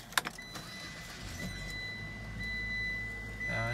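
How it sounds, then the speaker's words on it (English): A 2022 Mitsubishi Eclipse Cross GT is started with the push button: a few quick clicks, then the engine fires and settles into a steady idle that swells slightly near the end. Faint talk sits underneath. "So foot on the brake, push to start."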